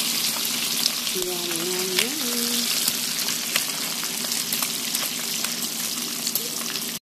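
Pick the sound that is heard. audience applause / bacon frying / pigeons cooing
bacon frying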